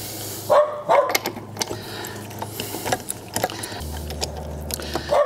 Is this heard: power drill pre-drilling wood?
no